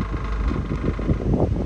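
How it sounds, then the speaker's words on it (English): Loose heat shield rattling against the rear muffler of a 240,000-mile Lexus LS460 at idle, a steady low buzzing rumble with irregular rattly pulses throughout, close and continuous. "we are no longer holding this shield around this rear muffler, and ultimately that causes this really annoying noise while it's idling"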